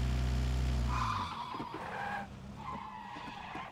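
Minibus in the PUBG video game revving hard, then skidding with loud tire squeals in two bursts over a running engine, with no talk.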